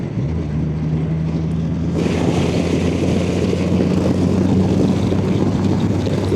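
Triumph Rocket 3 GT motorcycle cruising on a highway at a steady speed, its engine a continuous loud drone with heavy wind rush that swells partway through and then holds steady.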